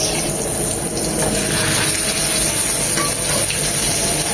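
Two hilsa fish frying in a generous amount of mustard oil, giving a steady, dense sizzle that holds fairly loud and even throughout, with no talking.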